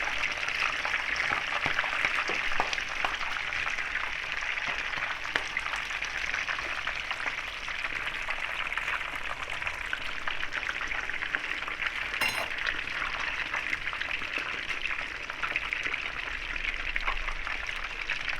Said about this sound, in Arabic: طبعا نخلي بالنا واحنا بنقليه علشان هو طرطشته صعبه جدا